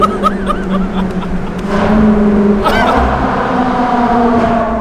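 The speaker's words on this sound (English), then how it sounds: "you just can't beat the naturally aspirated like V8 that Ferrari makes" A Ferrari naturally aspirated V8 revs hard in a tunnel, its loud droning engine note rising and echoing, while people laugh and exclaim over it.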